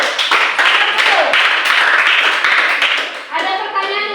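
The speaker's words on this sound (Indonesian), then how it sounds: "Oke, tepuk tangan untuk kelompok 1." A small class group claps for a presenting group during a school lesson, a brisk burst of hand claps that thins out toward the end, with a few voices over it.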